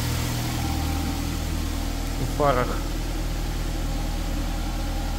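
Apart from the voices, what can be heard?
Nissan X-Trail 2008 engine idling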